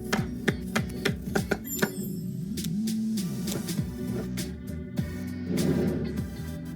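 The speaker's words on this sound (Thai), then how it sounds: "หั่นหั่นหั่นหั่นหั่นหั่น" Shallots being chopped in the video game Chef Life, a quick run of crisp knife taps on a board early on, then scattered clicks over a low background hum.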